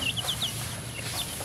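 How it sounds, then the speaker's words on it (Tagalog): A rooster, father of newly hatched chicks, clucking in a short run of quick high chirping calls close by, then fainter calls, over a steady background hiss. "Ito yung ama ng mga sisiw."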